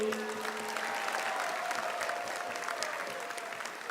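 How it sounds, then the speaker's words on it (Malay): Sustained applause from a large crowd at a political party convention, steady dense clapping that holds throughout and slowly eases toward the end. "Berikan satu tepukan kepada Setiausaha Agung kita Saudara Anthony Loke."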